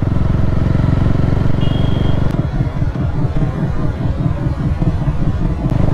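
A KTM Duke 390 motorcycle rides through Udaipur city traffic, its engine a loud, steady drone under heavy wind buffeting, with a brief high whine early and a rougher, throbbing pulse after the midpoint.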